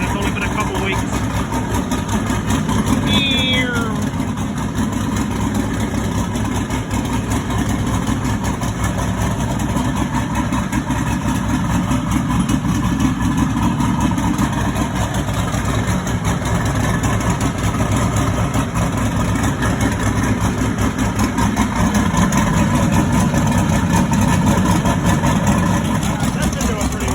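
A Chevy truck engine idles steadily while warming up, a close and constant low rumble running the whole time with a faint tick early on, while someone talks over it.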